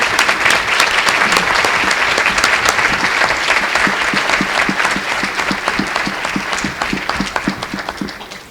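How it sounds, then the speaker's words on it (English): Loud, sustained audience applause greets Hall of Fame inductees at a high school alumni association induction ceremony, a thick wash of many hands with a few sharp, close individual claps standing out, slowly thinning at the end. "How about a round of applause?"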